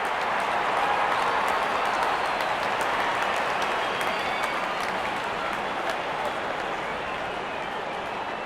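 A stadium crowd in the Real Cricket 18 video game roars with steady applause and cheering, a continuous dense wash of noise that carries through without pause.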